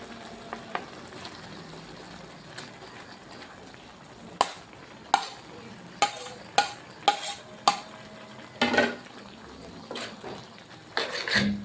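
Egg being stirred into cooked misua noodles with pechay in a pan, a soft steady sizzle under a string of sharp clinking utensil strokes against the pan, mostly in the second half.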